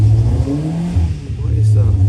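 Benoy 1200cc engine revving with a part-throttle misfire, a loud close droning rev with uneven stutters, with a voice talking over it.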